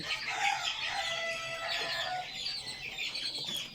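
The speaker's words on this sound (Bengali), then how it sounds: "অনেক সুন্দর লাগে এগুলো যখন ডাকে" Quail chicks chirp and cheep continuously in a busy, overlapping chorus, close by and fairly loud, with no voices.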